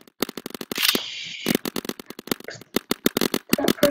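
Rapid paintball gun fire in a Roblox paint ball fight, dense bursts of sharp clicky shots in quick succession mixed with game sound effects and players talking.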